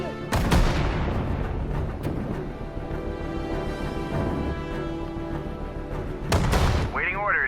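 Artillery fire in the Sudden Strike 4 war game, with heavy booming shots at the start and again near the end over a continuous battle rumble, and a voice talking faintly underneath.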